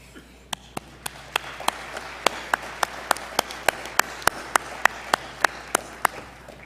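At a fall university commencement, crisp single hand claps ring out one after another at a steady, fairly even pace, distinct and moderately close against a quiet room background.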